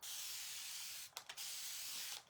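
A continuous close hiss of spray runs for about a second, breaks into two short bursts, then resumes steadily before stopping.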